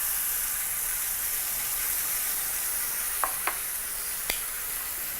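Honey and pork ribs sizzle in a hot pan, a loud, steady frying hiss close by, with a few brief clinks or pops near the end and no talk.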